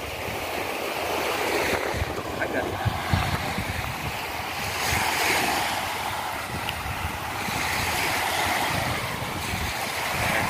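Gusty wind roaring over breaking surf at Al Mojerma Beach, a steady broad wash of waves and wind buffeting the microphone throughout, with no talking.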